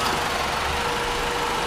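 A 2008 Chrysler PT Cruiser's four-cylinder engine idles steadily under the open hood, a continuous close, even hum with no voices.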